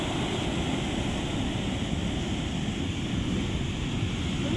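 A stormy Mediterranean Sea on a hot day churns heavy surf, a dense, unbroken roar of waves mixed with wind buffeting the microphone. No voices are heard.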